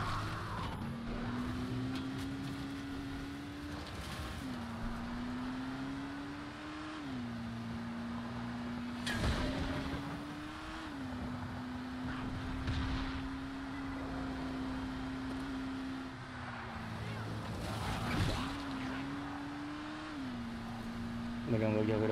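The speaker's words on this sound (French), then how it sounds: "Allez, on va garer la voiture." A car in the zombie video game Dying Light drives with a steady engine drone that rises and falls as it shifts and accelerates, with occasional thumps and clatter, while someone talks over it.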